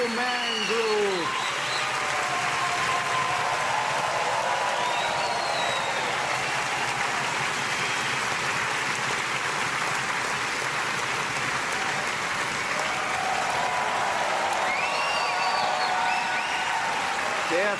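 Sustained audience applause follows a performance in Mannheim, a dense, even wash of clapping lasting many seconds, with faint whistles or cheers rising over it.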